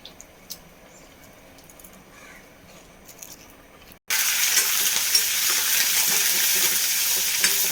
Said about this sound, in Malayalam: കടുക് ഇട്ട് കൊടുത്തിട്ടുണ്ട്, ഒന്ന് പൊട്ടി വരട്ടെ.